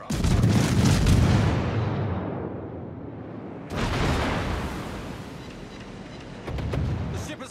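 Naval ship artillery in the World of Warships video game fires three heavy booming salvos, each a loud, deep blast trailing off into a long rumbling decay.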